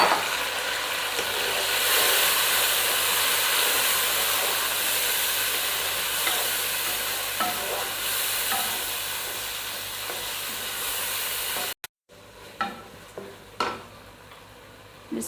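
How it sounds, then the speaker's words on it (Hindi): Chopped tomatoes hit hot oil left over from frying okra and hiss in a loud, steady close sizzle with light stirring scrapes, then cut out abruptly to quieter clatter. "ये अब हम इस ऑयल में डाल देंगे जिससे हमने भिंडियाँ निकाली हैं"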